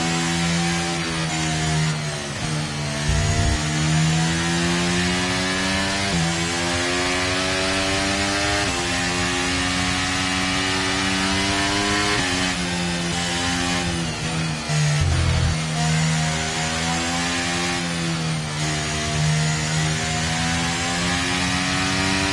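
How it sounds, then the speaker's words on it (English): A Formula 1 car engine in the F1 23 racing game, a loud, continuous high-pitched whine that rises and falls repeatedly with gear changes and revving, with no voices over it. "We need to keep the engine cool though, so don't go too high with the revs."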